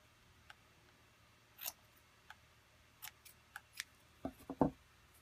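Scissors snip the fur of a Rycote windjammer, a few quiet, scattered cuts in a near-silent room that grow a little more frequent toward the end.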